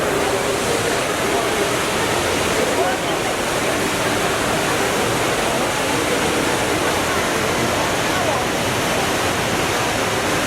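Indoor waterfall water feature at Changi Airport Terminal 1, Singapore: a loud, continuous roar of falling water that fills the space steadily throughout, with no pauses.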